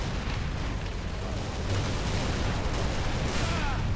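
A grenade blast in the video game Halo sounds as a loud, dense rumbling roar that fills the whole moment, thick and sustained rather than a single clean crack.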